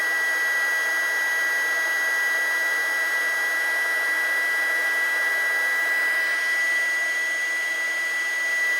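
A heat gun blows steadily on a heat shrink solder sleeve over two wires, a loud continuous whooshing hiss with a whining tone that holds unchanged for the whole stretch, with no talk.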